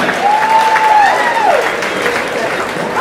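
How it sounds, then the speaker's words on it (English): A burlesque audience at Miss Burlesque Australia 2010 gives performer Rita Fontaine steady, loud applause, with a rising and falling whistle cutting through the crowd noise. "Big round of applause, please!"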